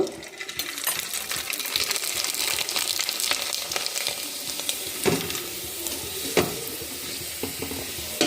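Tomato vadiyalu fry in hot oil with a dense, bubbling sizzle, punctuated by a few sharp clinks and taps of a utensil against the pan.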